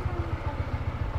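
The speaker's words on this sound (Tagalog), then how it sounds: "Pinainita po ito ni Aya, yung si ADB, para pagbiyahe natin, hindi po mabigla yung makina." A warmed-up motorcycle engine idles quietly, its low, even putter pulsing in a steady rhythm with no voices over it.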